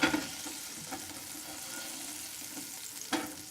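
Butter melting in a hot pan gives a steady close sizzle and crackle, with a few sharper spatters at the start and near the end, heard alone.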